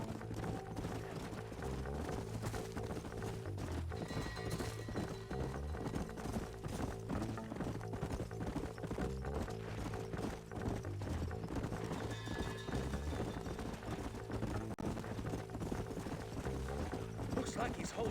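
Horses clip-clopping at a steady trot in the Western video game Red Dead Redemption, continuous rhythmic hoofbeats under a music score, with occasional whinnies.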